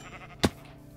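A single short sheep bleat from a video game, loud and close, standing out over a quiet background.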